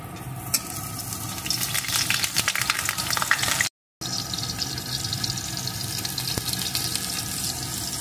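Halved eggplant and tomato frying in hot mustard oil in a kadai give a steady, dense sizzle throughout, with one brief cut to silence midway.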